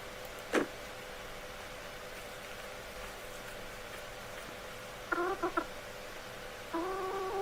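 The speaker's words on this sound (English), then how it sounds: "As long as my chickens ain't getting out." Chickens clucking in the sandbox video game Rising World, a few short clucks and squawks at intervals over a faint steady background, fairly quiet.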